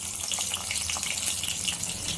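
Urad dal, a halved byadgi chilli and green chillies sizzle and crackle steadily in hot oil for aloo sagu, a continuous close frying hiss with no talking.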